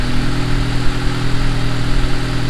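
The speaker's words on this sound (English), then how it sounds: "Idling down now, it sounds a little better." Turbocharged Honda Accord engine idling steadily at a low, settling rpm, a continuous droning rumble with a strong low hum, close and loud with no pauses.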